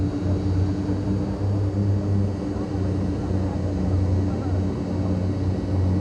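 Turboprop engines of a Short Skyvan at takeoff power in Microsoft Flight Simulator 2020, a steady loud droning hum with strong low tones, continuous throughout with no talk.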